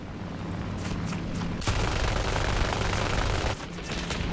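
Aircraft machine gun fire in the War Thunder flight game, with dense, continuous rapid bursts over a steady engine drone, loud and close, and no talk.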